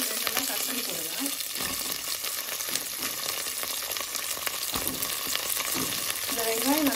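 Small onions sauté in oil for a goat leg curry, a steady broadband sizzle filling the whole stretch with scattered stirring scrapes, close and fairly loud, with no talking.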